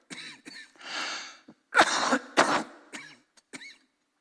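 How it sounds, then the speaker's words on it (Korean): A preacher coughs several times in a row during a church sermon, with harsh, throaty bursts and pauses between them, close and fairly loud. "흥분하면 기침이 나와요"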